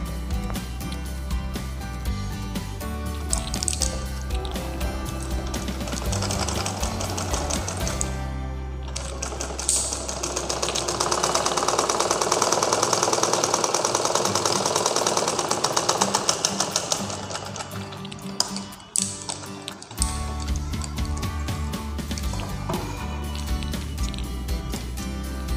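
A sewing machine stitches one-inch pleats on a simple blouse, running in a continuous rapid mechanical whir that swells louder midway, briefly pauses, then resumes, close and steady.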